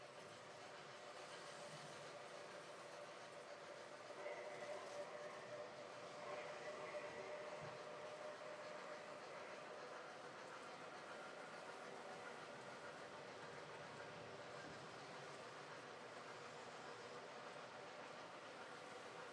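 Model trains start moving on a multi-level layout, a steady low rumble and continuous rolling clatter that holds at an even level throughout, with no clear voices.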